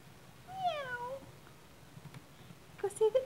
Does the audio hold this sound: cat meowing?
yes